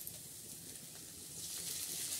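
Peanut, coconut and spice mixture frying in oil in a kadhai, giving a quiet, steady broadband sizzle that swells slightly toward the end, with no voices.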